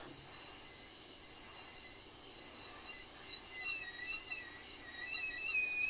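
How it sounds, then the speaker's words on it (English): An airbrush stencil template squeals in repeated thin, high-pitched chirps and whines, faint but persistent over a quiet background with no talking. "the squealing of the template is something that we just live with"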